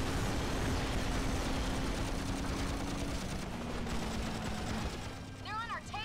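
Gunfire and explosions in the 007 Agent Under Fire video game during a helicopter chase, a dense, continuous roar of rapid shots and blasts with rising electronic sweeps near the end and no speech.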